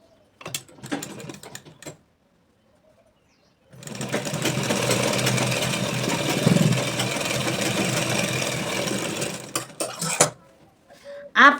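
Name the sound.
sewing machine stitching a bag from an old shirt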